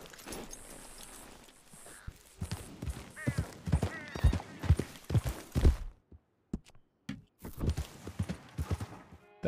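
Horse hooves clip-clop in a video game as a run of sharp, uneven hoofbeats that stop abruptly for a moment near the end, then resume.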